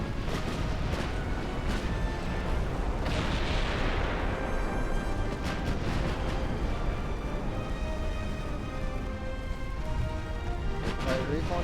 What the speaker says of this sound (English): All batteries fire.